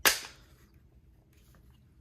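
A Glock 17 Gen 5 magazine drops free and hits a surface with a single sharp clack, followed by a short decaying rattle, close and alone.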